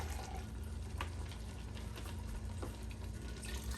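Liquid poured into an emptied tomato sauce can and swirled around to rinse out the sauce, a soft continuous trickling and sloshing heard close and quiet with no talk.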